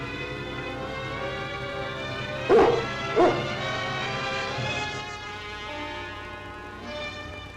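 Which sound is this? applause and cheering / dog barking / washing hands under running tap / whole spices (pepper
dog barking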